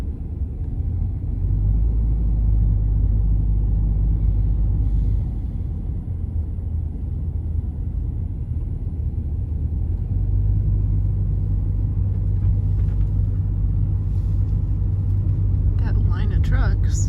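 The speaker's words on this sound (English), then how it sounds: "Got a line of trucks." A line of trucks at wheat harvest near Chase, Kansas gives a deep, continuous low rumble that stays loud and steady throughout, with a few faint clicks near the end.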